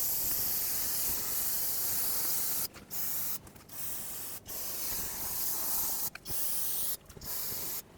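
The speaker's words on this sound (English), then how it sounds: "I'm going to clean everything with brake parts cleaner." Brake parts cleaner sprayed from an aerosol can onto the rear brakes of a 2008-2010 Ford F-250, a steady close hiss in several long bursts separated by brief pauses.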